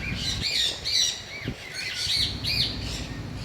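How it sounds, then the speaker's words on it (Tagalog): Small birds at a wildlife park chirp and squawk repeatedly in quick, bright bursts, close and fairly loud, with no voices. "Ayun, maliliit na ibon."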